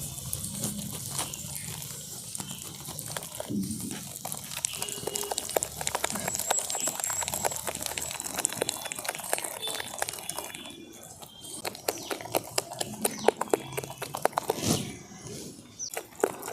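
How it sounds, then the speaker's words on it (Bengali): Masoor lentil batter with salt and chopped green chilli is whisked by hand in a bowl, a quick irregular run of soft wet slaps and clicks at moderate volume, with faint background noise. "এরপরে ডালটাকে আমি খুব ভালোভাবে ফেটিয়ে নেবো"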